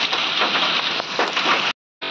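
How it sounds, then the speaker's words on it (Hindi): Hailstones pelt down near Kufri, Shimla in a dense, steady clatter that sounds like heavy rain on a surface. The noise cuts out briefly near the end and then resumes. "ओले ही ओले यहाँ पे ऊपर से बरस रहे हैं"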